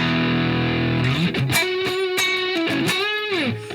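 A distorted electric guitar plays a lick from a song, starting with a sustained note, then choppy picked phrases and a bend, loud and alone.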